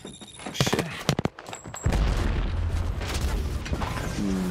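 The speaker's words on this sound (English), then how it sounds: "Heads up, grenade!" A grenade explodes in the Apex Legends battle royale shooter as a deep, loud boom with a long rumbling tail, preceded by sharp gunfire bursts. No one speaks.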